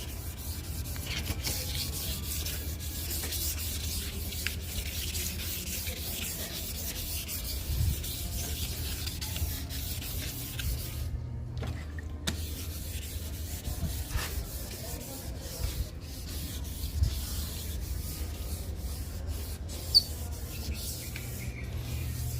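Steady, even rubbing and scraping of sandpaper on a Hyundai i10 headlight, continuous and close, with a brief pause partway through.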